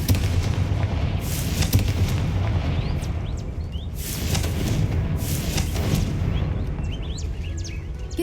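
Blasting-spell explosions in the video game Hogwarts Legacy, several loud booming bursts spaced a second or two apart over crackling debris and ambient game sound.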